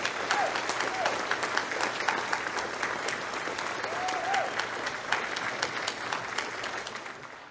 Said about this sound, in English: Please join me in giving a heartfelt round of applause to all of the first responders of Culpeper County.